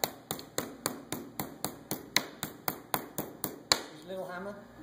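A small hammer pounding a veal top round, about a dozen sharp, evenly spaced strikes ringing close and loud, then stopping as a brief voice follows.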